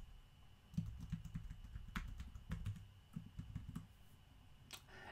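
Fingers type a password on a computer keyboard: a short run of soft, close key clicks in uneven bursts with brief pauses, fairly quiet and without talk.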